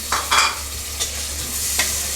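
Two medium-size tomatoes drop into a pan of frying masala for a village-style mutton curry, giving a loud, steady sizzle punctuated by a few quick stirring scrapes near the start and again later, with no voices.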